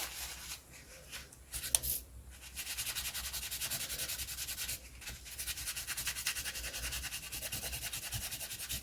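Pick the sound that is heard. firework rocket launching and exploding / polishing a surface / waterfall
polishing a surface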